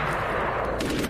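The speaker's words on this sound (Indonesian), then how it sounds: "Letnan Choi pun dengan refleks memberondong tembakan ke seluruh tubuh Sersan Jin" Automatic gunfire rips in a dense, continuous burst during a jungle war-horror scene in the Korean film R-Point, loud and unbroken for the whole moment.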